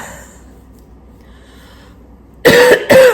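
Two sharp, loud coughs close to the mic near the end, after a stretch of quiet room tone.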